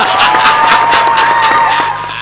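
Audience at a Hindi poetry recital breaks into dense, sustained applause with cheering, a loud continuous wash of clapping while a tonal note lingers underneath.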